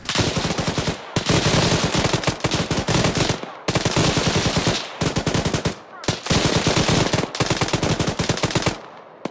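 Loud, close machine gun fire during an infantry assault comes in four long sustained bursts separated by brief pauses.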